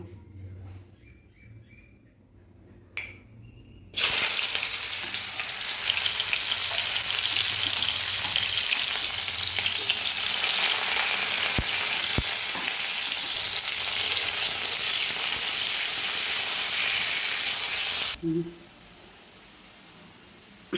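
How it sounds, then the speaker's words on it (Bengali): Sliced bitter gourd drops into hot oil and bursts into a loud, steady sizzle that runs for about fourteen seconds before cutting off. Faint bird chirps can be heard in the quiet kitchen beforehand. "তেলটা গরম হয়ে গেছে এবার আমি করলাগুলো ভেজে নেবো"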